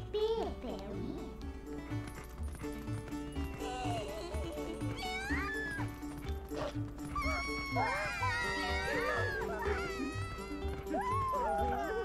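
Cats meow repeatedly in the Zelda Twilight Princess game world, several rising and falling mews over a steady looping game music bed, moderately loud and clustered toward the latter half.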